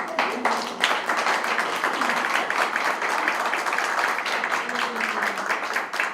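Sustained applause from an audience at the close of a Spanish-language technical talk on aquaculture oxygenation, a dense, even wash of many hands clapping that holds steady for several seconds with no voices over it.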